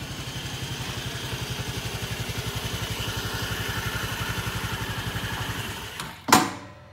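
Kie BaT Helix motorcycle engine idling with a fast, even low putter, then cut dead by the kickstand switch, followed by a sharp metallic clunk and near silence.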